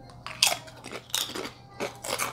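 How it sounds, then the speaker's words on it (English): Crisp cassava seafood chips crunch as they are bitten and chewed, several sharp close bites followed by crackly chewing in irregular bursts. "Ooh. These are quite crunchy."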